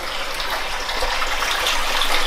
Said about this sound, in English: As you can see, the pump is pumping in, it's pumping it down.